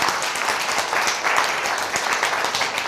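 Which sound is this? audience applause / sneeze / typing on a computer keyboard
audience applause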